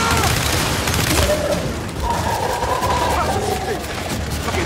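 Sustained automatic turret gunfire in the video game Gears 5, loud and dense throughout a chaotic firefight, with rapid bursts layered over booms and game effects and no talk.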